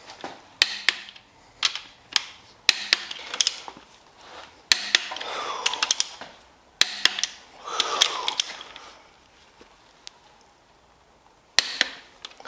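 A torque wrench clicks and ratchets while bolts are tightened to 50 foot-pounds on a step-van's big block 402 engine, sharp close clicks in irregular bursts with metallic clatter and quiet gaps between.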